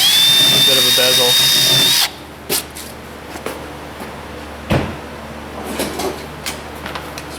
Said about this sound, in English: Same countersink bit.